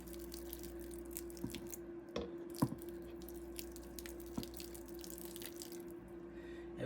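Water is poured over bedding in a Worm Factory 360 worm bin, giving faint trickling and scattered drips and splats over a steady low hum.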